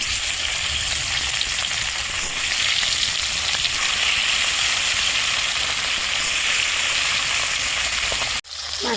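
Bata fish fries in hot white oil in a wok, a loud, constant sizzle that carries evenly throughout before cutting off abruptly just before the end.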